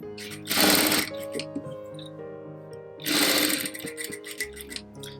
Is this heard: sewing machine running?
yes